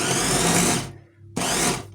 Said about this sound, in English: we're going to put the soup through the blender